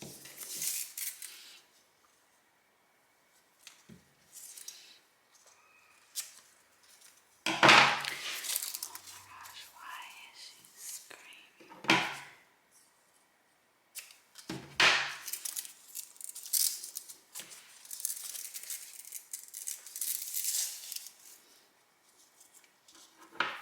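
Intermittent cutting of a shirt design with scissors, a series of close, crisp snips and rustling strokes of varying length, separated by quiet pauses, with occasional light handling noises.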